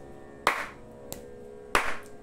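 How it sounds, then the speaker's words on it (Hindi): Hand claps keeping musical rhythm (taal) in a lesson: two sharp, close claps with a lighter tap between, evenly spaced, no talking. "जब हम ताली लेते हैं तो हमारा जोर पड़ता है"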